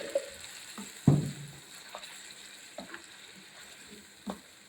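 Ground arai keerai spinach paste hits a hot pan over low gas, giving a soft sizzle with a few brief spatters and clinks, one louder burst near the start, then fading to a low steady fry.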